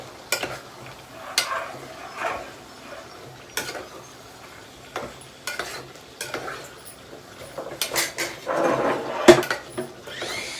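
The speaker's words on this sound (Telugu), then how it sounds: "నువ్వు అది కలుపు, నేను ఇది కలుపుతా." Chicken fry being stirred in a pan, with repeated scraping clicks of a spoon against metal over a soft background sizzle, near and moderately loud.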